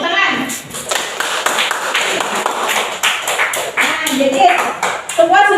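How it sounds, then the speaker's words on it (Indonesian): A classroom of children applaud together, with steady dense clapping that continues throughout while voices speak over it. "Ya, tepuk tangan."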